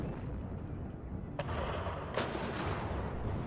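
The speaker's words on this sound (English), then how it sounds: "We at least got all of our artillery off counter battery on fire at will" Artillery booms in a Cold War real-time strategy game over a dense, rumbling battle din, with two sharper blasts standing out above the steady low roar.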